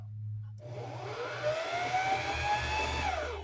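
A sewing machine winds a bobbin, switching on with a rising whir that settles into a steady high motor whine, close and continuous.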